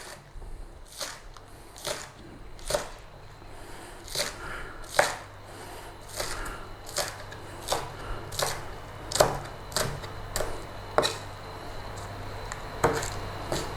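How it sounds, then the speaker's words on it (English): A knife chops green onions into short pieces on a board, about a dozen crisp, evenly spaced cuts over a quiet room with no speech. "we've got some green onions, and all we're going to do is cut them into about 1 centimeter pieces"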